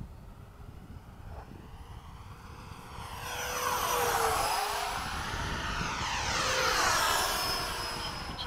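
A Freewing 90mm F-22 RC jet makes a fly-by pass, its ducted-fan whine rising and Doppler-sweeping as it nears and passes, loud and close, then trailing off, over outdoor background noise with no talking.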